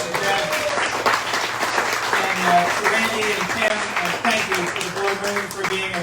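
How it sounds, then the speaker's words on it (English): Audience applause at an outdoor summer party, steady clapping sustained for about six seconds, mixed with crowd murmur and some voices talking underneath. "Please give them another round of applause."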